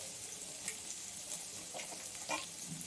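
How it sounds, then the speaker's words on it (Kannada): Chopped ginger, garlic and green chilli fry in oil with a soft, steady sizzle and faint crackles, quiet and close, with no talk. "ಅದು ಸ್ವಲ್ಪ ಫ್ರೈ ಮಾಡ್ಕೊಬೇಕು."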